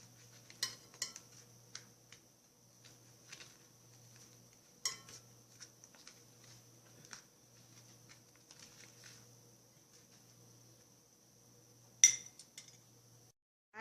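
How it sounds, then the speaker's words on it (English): Fish is mixed with a chili powder marinade in a bowl, with faint, sparse metallic clinks and taps of a spoon against the dish over a low steady hum, and one sharper clink near the end. "Mix everything in the chili powder."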